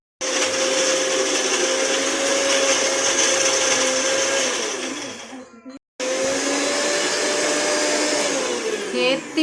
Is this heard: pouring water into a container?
no